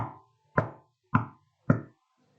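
Four evenly spaced knocks, roughly half a second apart, tap out a steady four-beat count. Each is sharp, close and of similar loudness, with quiet gaps between and no speech.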